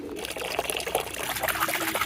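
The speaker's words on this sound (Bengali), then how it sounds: "ওকে পানি দিয়ে দেওয়া হয়েছে" Water being poured for pigeons to bathe in, a close splashing trickle that runs steadily through the short clip.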